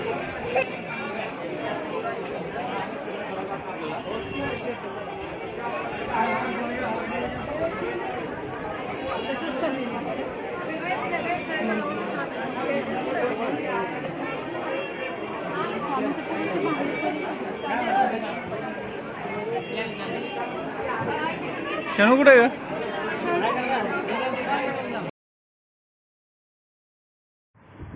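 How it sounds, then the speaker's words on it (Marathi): A dense crowd of devotees chatters at the Akkalkot Swami temple, a steady babble of many voices with nearby individual speech rising out of it. The crowd noise runs unbroken for about 25 seconds, then cuts to silence. "यावेळेस अक्कलकोटला इतकी गर्दी होती ना की विचारायला नको"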